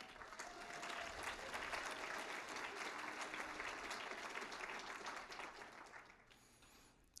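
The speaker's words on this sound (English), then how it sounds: "How about a round of applause for that?" A staff rally audience gives a sustained round of applause, a loud, dense wash of clapping that holds steady for several seconds before tapering off.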